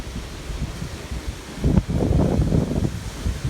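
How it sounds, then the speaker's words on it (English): Strong wind beside Lake Michigan buffets the microphone in a steady roaring rumble that swells louder midway, with no talking. "Windy out there, so I know it's probably sounding loud in the speaker."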